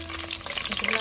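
Chopped ginger fries in hot cooking oil for an Ilish fish curry, giving a close, steady sizzling hiss for a brief moment.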